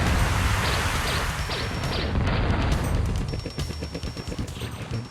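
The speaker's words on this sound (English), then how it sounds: "And here's a spread fire cannon." Spread fire cannon from the Descent video game, raytraced, unleashes a dense, continuous barrage of blasts and crashing impacts in a nickel-iron mine level on Venus, loud and rapid throughout before thinning slightly near the end.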